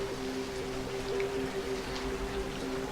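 Steady rain ambience behind a tabletop role-play scene, a continuous soft hiss of falling rain with faint droplet patter and a low hum beneath, even and unbroken throughout.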